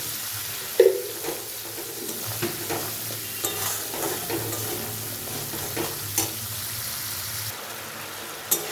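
Spice paste fries in a pan for a Bengali dhokar dalna, a steady sizzle running under repeated scraping and stirring strokes of a spoon, with a few sharper clinks against the pan.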